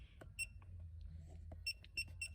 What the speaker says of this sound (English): you can actually turn off the annoying beep